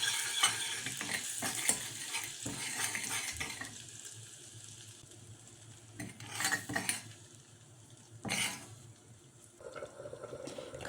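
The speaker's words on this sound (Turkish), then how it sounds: "Kızdırdığımız tereyağımıza 1 yemek kaşığı kuru naneyi ilave ederek karıştıralım." Dried mint stirred into hot sizzling butter in a pot, a steady close frying hiss with scraping spoon stirs and a few brief louder crackles, no voices.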